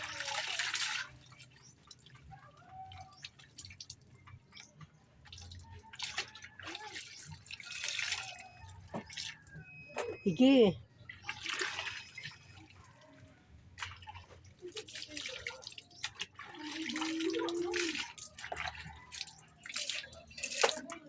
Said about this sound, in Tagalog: Ibanlaw-banlaw dia sa tubig.